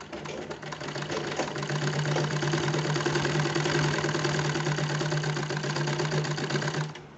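A sewing machine stitches a small child's kurta with a slightly slanted seam, running as a steady, continuous mechanical whir with a low hum, close and loud from start to finish.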